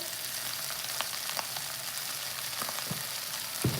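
Broccolini sautéing in a pan with onion powder makes a soft, steady sizzle with a few faint clicks and crackles, quiet and close, with no talk.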